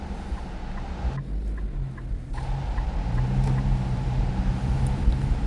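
Inside a Nissan Kicks AWD on the road, a low, steady engine and tire hum fills the cabin, quiet and continuous, with the engine note rising slightly toward the end.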